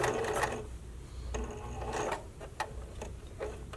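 A sewing machine stitches bra pieces in short runs, a quiet close mechanical whir with ticking stops between bursts.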